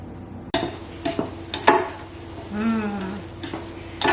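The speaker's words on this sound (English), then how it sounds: "Then we will add the enoki mushrooms and cook for another minute." Enoki mushrooms stir-frying in a pan, with a soft frying hiss broken by several sharp scrapes and clacks of a utensil against the pan, and a brief muffled tonal sound midway.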